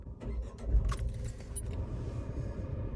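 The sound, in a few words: car key inserted and ignition started in Tata Punch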